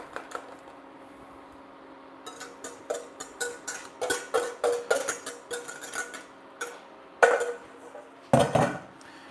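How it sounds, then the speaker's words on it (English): A utensil scrapes and taps rhythmically against a pan while eggs are stirred for a steak and gravy omelette, quick clinks in steady bursts with a faint steady hum beneath. "Then we need to immediately start to stir, almost like we're scrambling eggs."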